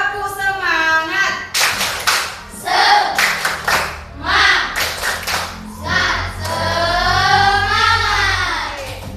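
A classroom of children does a rhythmic spirit clap, with loud bursts of clapping in patterned groups mixed with the kids' chanted voices and a teacher leading them.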